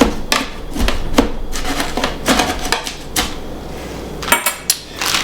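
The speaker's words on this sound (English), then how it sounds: "sometimes I'll use the end of my spoon to really get it all down in there" A spoon knocks and scrapes inside a blender jar, pushing kale down for a green berry smoothie: a close run of sharp, irregular clatters and taps, with no voices.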